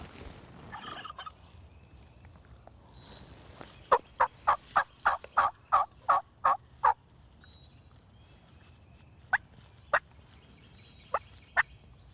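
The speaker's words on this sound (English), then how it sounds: "Turkeys can be fussy, so Jason and Ron will try a variety of call" A wild turkey in Kansas, with a brief warbling burst followed by a fast run of a dozen sharp, evenly spaced calls and then a few scattered single notes, fairly clear over a faint outdoor hush.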